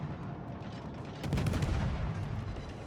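A destroyer's naval guns fire in World of Warships, a muffled boom and rumbling salvo that swells midway over a steady low game background, with no talking.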